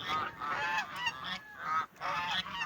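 Russian-crossbreed geese honk repeatedly at close range, with several harsh, nasal calls in quick succession and short gaps between bursts, and no talking.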